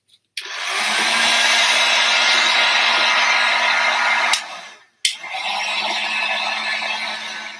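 A loud, steady roaring blast of a gas torch runs for several seconds, cuts out abruptly, then roars back on.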